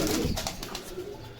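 Pigeons at a pigeon market in Bogura coo and flutter in a short, close burst, the soft calls fading slightly toward the end with no talk over them.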